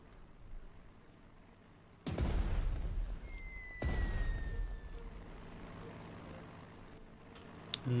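Two heavy, booming explosions from incendiary bombing in the war strategy game Panzer Strategy, a couple of seconds apart. Each has a deep rumbling tail over steady background noise.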